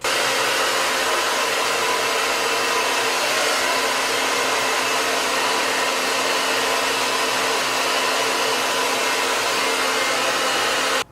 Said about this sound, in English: we are going to get the blow dryer back out and put it on cool again and just blast it with that cool air again until everything feels completely dry